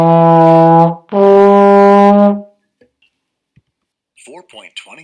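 A trombone plays two long sustained notes, loud and close, then falls silent before a voice starts speaking.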